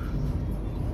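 Cabin of a Suzuki Swift 1.2 GLX on the road, a low steady engine and road rumble heard from inside, quiet and even for about a second with no talking.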